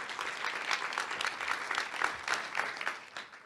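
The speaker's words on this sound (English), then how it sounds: "Another round of applause for Andy Dreisman" A rocket-launch event audience claps for a NASA solar probe project manager, a brisk, moderately loud round of applause with distinct individual claps rising and easing off near the end.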